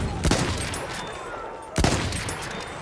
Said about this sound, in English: Check out the sound effects and the animations for working the bolt and the muzzle reports.